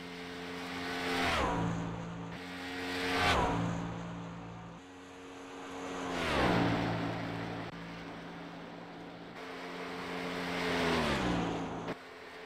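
Racing trucks roar around Texas Motor Speedway in a racing video game, engines rising and falling in repeated passes as each truck sweeps by, pitch dropping on every pass, fairly loud with no voices over it.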